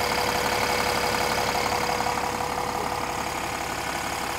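A Cummins ISL 400 diesel engine idles in a 2002 American Eagle 40V motorhome on a Spartan chassis, with the engine cover open; a loud, close, steady low rumble with knocking clatter runs throughout, with no talk.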